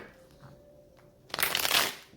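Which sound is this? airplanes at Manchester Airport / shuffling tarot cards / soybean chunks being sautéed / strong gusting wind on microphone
shuffling tarot cards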